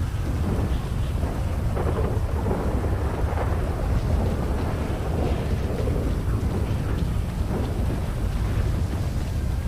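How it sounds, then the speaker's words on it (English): A thunderstorm in the GTA video game, with steady heavy rain and rolling thunder rumbling continuously at high volume and no break throughout. "You notice they put the fucking lightning in now?"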